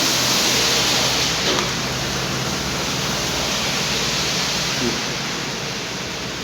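Steady, dense rain falls throughout, a loud, even wash of hiss with no breaks and only faint background sounds.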